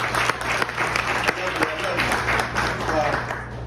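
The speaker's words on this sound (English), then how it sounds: "And Carmen, give my sister Carmen a round of applause." An audience applauds at a restaurant's 33rd anniversary celebration, producing steady, dense clapping with a low hum beneath it that holds throughout.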